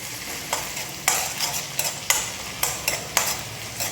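Shallots, crushed green chili and curry leaves sautéing in oil for a cowpea mezhukkupuratti, a continuous close sizzle punctuated by a series of sharp spatula scrapes at irregular intervals.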